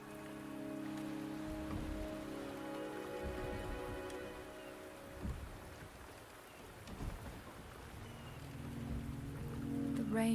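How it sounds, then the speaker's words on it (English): Steady rain patters on surfaces in the Wuthering Waves video game, with low rumbling thunder and droning ambient tones beneath a constant wash of falling drops. "The rain is subsiding"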